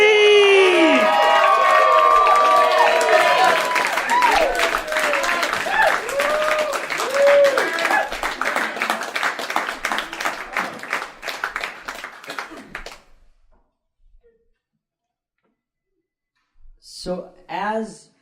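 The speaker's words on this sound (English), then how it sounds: "Please welcome to the stage with a thunderous round of applause," A comedy club audience greeting a comedian with loud clapping, cheers and whoops that fade over about thirteen seconds into silence. Brief speech follows near the end.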